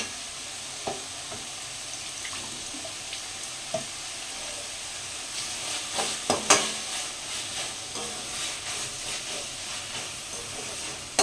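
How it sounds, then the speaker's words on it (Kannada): Tomatoes frying in a pan with salt give a steady close sizzle and hiss, with occasional soft knocks of stirring and a louder crackling burst midway; no one speaks. "ಟೊಮೆಟೊ ಸ್ವಲ್ಪ ಬೇಗ ಫ್ರೈ ಆಗಲಿ ಅನ್ನೋದಕ್ಕೋಸ್ಕರ ನಾನಿಲ್ಲಿ ಕಾಳನ್ನ ಆ್ಯಡ್ ಮಾಡಿದ್ದೀನಿ"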